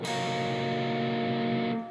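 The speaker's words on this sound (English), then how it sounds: "Then we'll pick the bottom 3 strings open." A distorted electric guitar picks its bottom three strings open, the notes blending into one sustained, buzzing ring that holds steadily and then is damped near the end, close with no talking.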